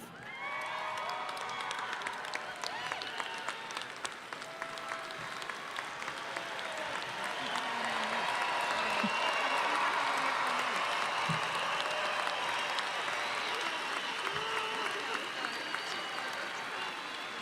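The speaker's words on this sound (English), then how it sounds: "let's give another round of applause for all of our graduates" A large crowd applauds graduates at a Grand Valley State University commencement ceremony, with dense, steady clapping and scattered cheers filling a big hall and swelling slightly midway.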